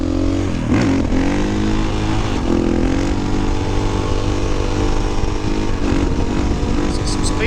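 A KTM EXC 500 dirt bike revs hard and accelerates for a wheelie, its loud, close engine note climbing and shifting over a constant roar of wind and road noise.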